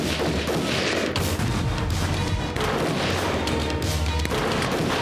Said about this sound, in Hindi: दुश्मन के सैनिक बंदूकों से गोली चला रहे थे